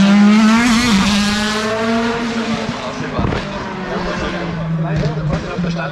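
A race car at the Rechberg hillclimb screams past up close, its engine note climbing and falling through gear changes with sharp bursts and tire noise, the loud whine fading slightly as it pulls away.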